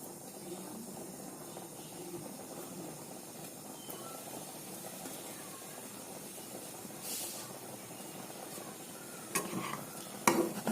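Chui pitha rice dumplings simmer in milk in a wok, giving off a faint, steady bubbling hiss. A few light clinks and scrapes come near the end.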